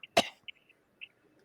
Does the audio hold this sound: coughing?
yes